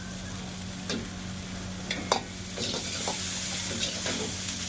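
Garlic frying in a pan for chicken crispy, a loud steady sizzle with occasional sharp clicks of a utensil against the pan, continuous and close.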